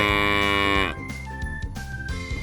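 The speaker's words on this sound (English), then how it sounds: "Cows make milk." A cow lets out one long, loud, sustained moo that ends abruptly and gives way to light background music.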